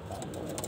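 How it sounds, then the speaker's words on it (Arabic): A pigeon coos softly up close over a dense, noisy background, the low murmuring call running through the whole short stretch with a few faint higher chirps. "بصوا فرد حمام، فرد حمام شكله عامل ازاي"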